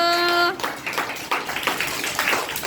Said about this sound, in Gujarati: તો ચાલો બાળકો બધાએ ફૂલ જોરથી તાળી પાડી દો.